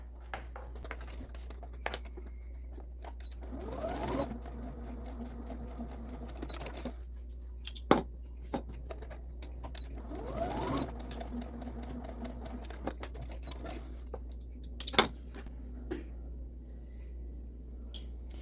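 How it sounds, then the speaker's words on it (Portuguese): A sewing machine stitches the side seams of a small fabric food bag, running in a few short bursts between quiet pauses, close and fairly faint with light handling noises. "E nós vamos passar 2 costurinhas aqui nessa lateral."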